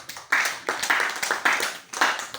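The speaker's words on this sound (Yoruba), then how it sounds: "Ẹ jẹ́ pàtẹ́wọ́ fún Jésù." A congregation at a church service clapping for Jesus in distinct rhythmic bursts, several hands together repeating a steady beat, moderately loud and nearby.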